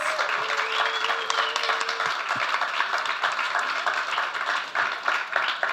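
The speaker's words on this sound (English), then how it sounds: "let's give them a round of applause for you guys" Audience applause for a sustainability panel at SXSW 2024, a dense steady patter of clapping hands filling the room throughout, with a voice briefly audible over it.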